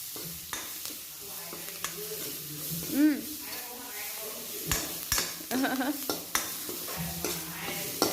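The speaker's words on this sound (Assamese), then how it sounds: "এয়া মছলাসমূহ দি মেলি ভাজি লৈছোঁ" Spices fry in a pan with a continuous hissing sizzle while a spatula stirs, scraping and clinking against the metal in irregular bursts throughout.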